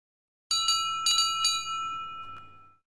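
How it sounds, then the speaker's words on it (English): A train's bell on the engine Toby in a Thomas and Friends repair game rings in a few bright, metallic strikes that fade out with a long ring. "Toby's bell is broken and his cowcatcher is"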